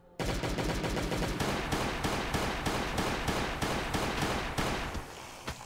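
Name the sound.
gunfire from a gun in the video game Last Day On Earth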